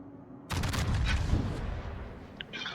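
A British battlecruiser's main guns firing a shot in a naval battle game: a sudden heavy boom that lingers in a rumbling roar, followed by softer distant crackles.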